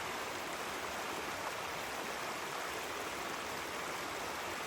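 A swollen creek rushes after a hurricane flood in a mountain community, its steady, dense broadband roar continuous and close throughout, with no voices.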